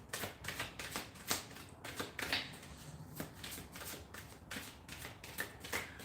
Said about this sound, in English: We'll put one of these soul cards for you